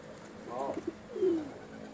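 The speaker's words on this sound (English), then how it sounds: "They're all cooing." Pigeon cockbirds cooing inside a loft, a couple of soft, low rolling coos close by with a brief pause between them, over quiet background.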